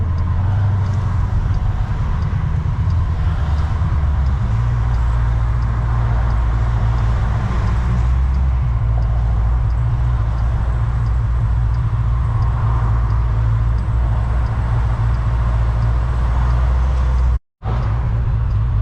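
Cabin drone of a cammed Jeep SRT with a rebuilt forged engine crawling at low RPM in stop-and-go traffic, a loud, steady low rumble with slight surges and one brief cutout near the end.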